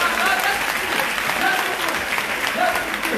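Audience applause at a live stand-up comedy performance for La Nuit des Idées, a dense, steady wash of clapping filling the whole stretch at close range, with faint voices mixed in.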